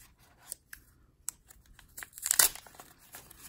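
A mail package of football cards is torn open with sharp rips, crinkling and scraping of paper and plastic, close by in irregular bursts, loudest in a tearing rush midway.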